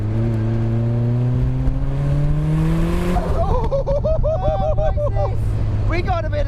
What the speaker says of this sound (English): Oh, I can hear the turbo.